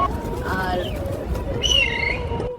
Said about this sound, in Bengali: একটা কবুতর